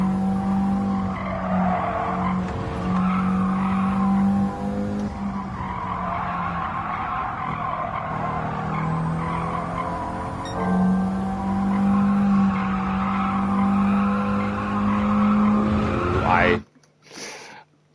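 A Toyota Celica skids around Suzuka circuit in the video game Gran Turismo 7, tires squealing in long high wails over a steady engine drone for many seconds before cutting off abruptly; a voice talks at times.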